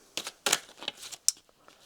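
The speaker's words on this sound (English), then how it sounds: "A bit more of a shuffle." Tarot cards being shuffled by hand indoors, giving a series of short crisp riffling and slapping bursts at an irregular rhythm, close and fairly quiet, with no voices.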